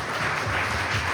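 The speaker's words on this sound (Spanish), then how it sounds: "Démosle un aplauso al Señor Jesucristo" A church congregation at a Sunday service breaks into loud, dense applause, a brief continuous roar of many hands clapping together.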